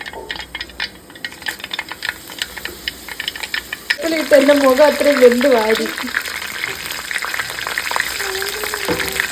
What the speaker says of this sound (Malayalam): എണ്ണ ചൂടായി ഇനി നമുക്ക് അതിലേക്ക് കടുവ് ഇടാം